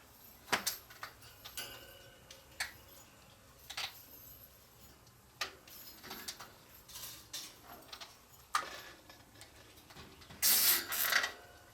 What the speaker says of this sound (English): Zip tie there, and these we're going to bring all the way to the top.